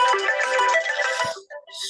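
A mobile phone ringtone plays loudly and alone, a bright tonal melody that holds steady for over a second, then breaks into short separate notes with brief gaps.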